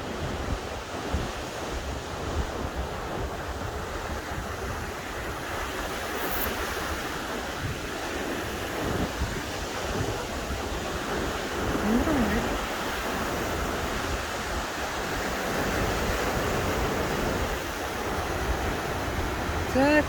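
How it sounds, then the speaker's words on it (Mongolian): Strong sea waves break and churn in a continuous, loud roar of surf, with wind buffeting the microphone throughout and no clear voices. "далайн ус хүчтэй хөдөлгөөнтэй байсан"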